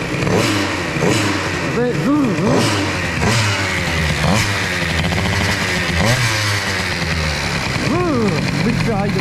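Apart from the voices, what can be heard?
moped engine with Airsal XT 77 kit revving, high idle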